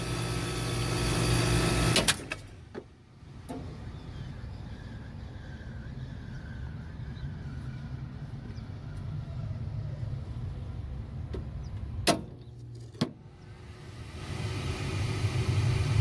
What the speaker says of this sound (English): immediately when I powered this back on, my inducer came right back on